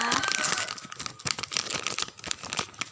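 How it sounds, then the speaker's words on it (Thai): Plastic bags crinkle and rustle as homemade snacks are packed into them, a close, continuous run of crackling and crumpling with sharp little crunches throughout. "คุณแม่ก็จะเริ่มแพ็คขนมต่อนะคะ"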